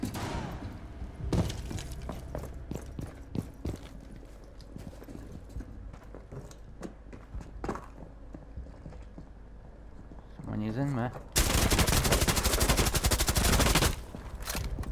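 Gunfire in the video game Rainbow Six Siege: scattered sharp single shots, then a sustained loud burst of rapid automatic fire near the end, with people talking over parts of it.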